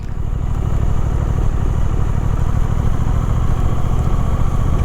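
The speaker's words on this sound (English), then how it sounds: "in this second gear itself, okay, right now it's maintaining 18-19 kilometers per hour, but it might not be apparent in the video, but the bike is not happy," Close and steady, a Suzuki GSX-8R motorcycle engine chugs at low speed in second gear, around 18 to 19 km/h, with a slightly uneven, jerky low rumble and no voices.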